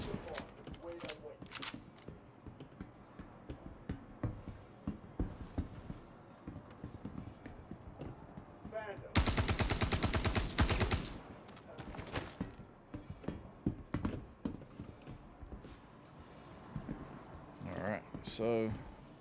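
Gunfire with iron sights in the sci-fi shooter Star Citizen: scattered single shots and footsteps, then one dense, loud burst of rapid fire in the middle, with someone talking quietly throughout.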